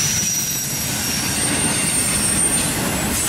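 A Norfolk Southern intermodal freight train rolls past near Alliance, a loud, steady rumble of cars on the track with faint high wheel squeal over it throughout.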